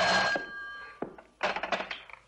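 In a 1970s radio drama, a telephone bell rings briefly, then the receiver is picked up with a dull thunk and several clattering knocks close by.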